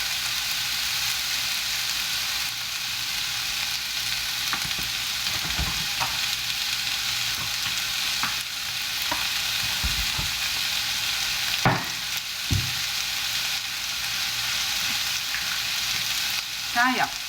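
Salt and pepper shrimp are tossed in a hot wok, a continuous close crackling sizzle of frying punctuated by several scraping stirs of the spatula.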